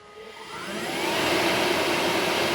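An AC-50 machine spins at reduced RPM, a loud steady whirring roar that swells over the first second and then holds, close by with no talk.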